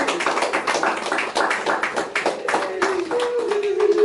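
Church congregation clapping in praise of the Lord, a dense, steady round of applause with a faint voice or tone rising near the end.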